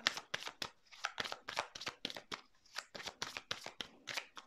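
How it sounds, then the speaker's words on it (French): Tarot cards are handled and laid out in quick, crisp flicks and slaps, a steady run of sharp papery snaps at close range in a quiet room. "je vais mettre des cartes sur cette illusion-là"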